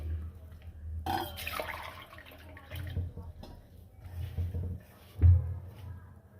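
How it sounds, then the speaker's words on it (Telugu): Water splashes into a pan, followed by soft stirring and scraping sounds; low kitchen rumble underneath, with one brief louder knock near the end. "దీంట్లోకి వాటర్ వేసేసి బాగా మిక్స్ చేసుకుందాం"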